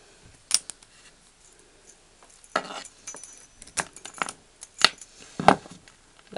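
A couple of small metal lock keys, two user keys and a control key for an Arrow lock, are handled close by in scattered light clicks and jingles separated by quiet gaps.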